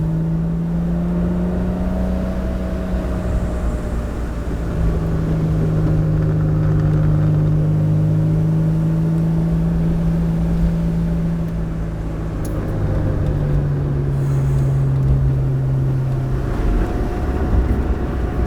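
A Honda V6 swapped into an NA Mazda Miata pulls uphill under power, its loud, close engine drone holding steady then climbing in pitch as it accelerates, with no talking.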